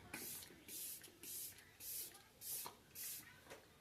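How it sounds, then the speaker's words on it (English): A face mist bottle spritzed six times in a steady rhythm, each short hissing burst close to the ear with brief pauses between. "Oh, got my spray."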